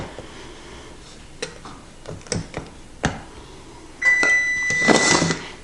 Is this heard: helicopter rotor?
no